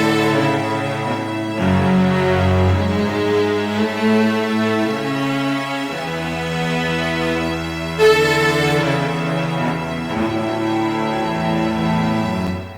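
A sustained string arrangement from a cover mix plays as layered, swelling chords that shift every few seconds, smooth and full, with no talking.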